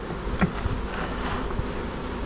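Roughly forty thousand honey bees crowd together in a pit and make a dense, steady buzz close by, with a few brief knocks and rustles but no talk.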